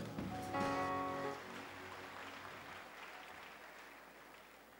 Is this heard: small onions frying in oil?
no